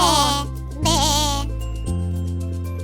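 Loud sheep bleats in a children's cartoon come one after another, wavering and nasal, with a tinkling note and a low sustained tone underneath.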